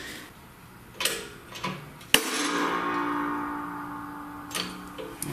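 A shop press pushes a part off a Chrysler AAM 9.25 front differential center section: quiet creaks and ticks build to one sharp, loud crack as the part breaks free, followed by a lingering metallic ring.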